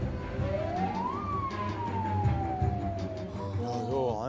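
A fire engine siren wails at an arson fire scene, rising and then slowly falling in pitch, with a faster yelping pattern starting at the end, loud over a busy street background with traffic noise.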